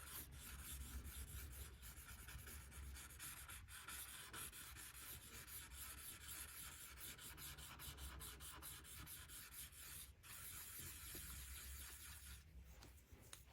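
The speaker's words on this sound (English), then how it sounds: "I'm rubbing it out and making sure it is evenly blended." Paper being rubbed out and blended during a drawing lesson, with a continuous soft scratchy rubbing made of quick back-and-forth strokes, close and faint, with no talking.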